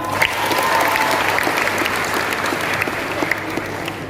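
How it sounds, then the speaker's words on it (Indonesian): Audience applause at a motivational talk, dense even clapping from a crowd that holds steady for the whole stretch. "Tepuk tangan untuk semuanya"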